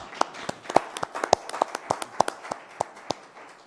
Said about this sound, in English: Y'all can give him a round of applause really quick.